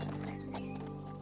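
An Icelandic horse outdoors gives a short burst of close horse sounds, a neighing whinny over a steady background, lasting about a second.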